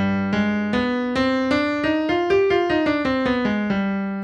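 Piano notes step up a harmonic minor scale from G and back down, played evenly and clearly with no talking.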